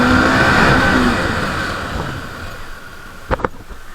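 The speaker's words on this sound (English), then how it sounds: "you will feel a very nice exhaust sound, as it is an underbelly exhaust sound" A motorcycle with an underbelly exhaust is ridden along a road. Its engine note rises loud and close, then gradually fades away, and a couple of brief knocks follow near the end.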